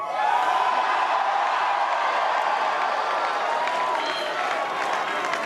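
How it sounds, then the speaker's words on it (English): A jubilant crowd cheers for Donald Trump at an election-night victory event, a dense, sustained roar of voices, whoops and scattered clapping that holds steady and loud throughout. "Donald Trump addressing a jubilant crowd"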